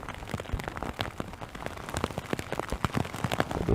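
Rain falls on Watts Bar Lake near Spring City, Tennessee, a dense, close patter of irregular drops hitting the surface, steady throughout with no talk.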